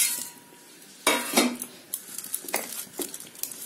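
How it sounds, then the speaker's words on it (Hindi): Roughly 300 grams of veg noodles going into a pot of boiling water, with sharp clinks and knocks of the pot and utensils and some soft splashing and stirring, close by with no talking. "अब आपको अपना नूडल्स डाल देना है उसमें"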